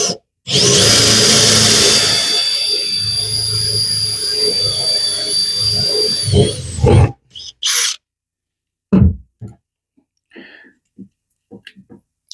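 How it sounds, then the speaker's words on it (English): A drill with a Forstner bit bores a hole into the center of a wooden router circle jig, whining loudly for several seconds before stopping. Afterwards come a few short handling knocks and clicks. "I'm simply gonna drill a hole into the center."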